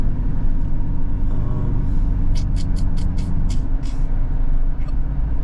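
Dodge Charger idling with a deep, continuous low engine rumble and exhaust drone, close and loud, with a series of short sharp hissy bursts in the middle.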